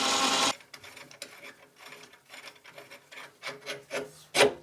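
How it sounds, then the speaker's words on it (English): Hand file run over a freshly turned metal part on a restored Centec milling machine, a series of close, uneven rasping strokes following a brief burst of louder noise. "I'll just run a file over it"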